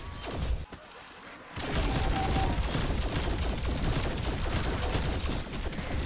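Wonder Weapon firing at a Panzer in Black Ops Cold War zombies, a brief quieter lull then a sudden start of dense, rapid, continuous weapon fire that stays loud and close to the end.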